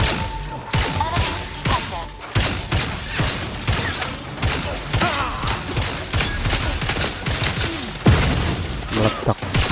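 A mine detonating in The Outer Worlds 2, heard as a dense, continuous run of thumps, crashes and booms with clattering debris, loud and close throughout the stretch.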